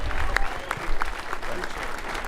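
Brief round of applause from a small group at a weekly Friday staff gathering, steady dense clapping with a few voices mixed in.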